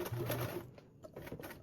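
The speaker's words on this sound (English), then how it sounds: "And we're going to sew across." A sewing machine stitches across duffle bag binding in a short, steady run of rapid mechanical needle strokes, close and alone with no voices.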